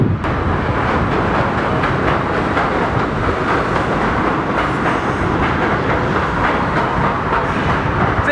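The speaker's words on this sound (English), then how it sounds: "Where's the train? It's coming right over there" A train rolls past close by, a loud continuous roar of wheels and cars with faint clickety-clack, sustained evenly for several seconds with no talking.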